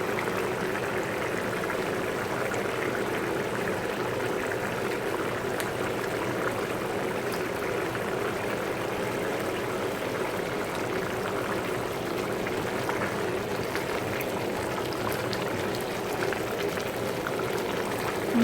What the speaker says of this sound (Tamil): ஒரு 2 நிமிஷம் கொதிக்க விடலாம். கொதிச்சிடுச்சு.